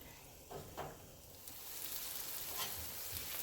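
Churros deep frying in hot oil in a pan give a steady, close broadband sizzle and crackle that grows denser after the first second, with a few brief scraping bursts.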